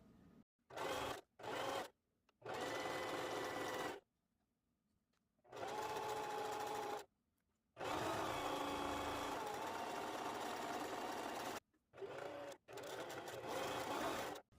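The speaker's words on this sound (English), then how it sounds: "And then you're going to sew all around." A sewing machine stitches around a fabric button adjustable bonnet, running in several steady bursts of a few seconds each, separated by short pauses and stops.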